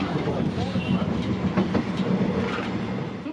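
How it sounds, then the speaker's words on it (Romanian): A passenger train rolls along a rehabilitated railway line between Chișinău and Basarabeasca in Moldova, its wheels giving a steady rumble and rhythmic clickety-clack over the rails, close and continuous throughout. "au mers cu trenul de la Chișinău până la Basarabeasca"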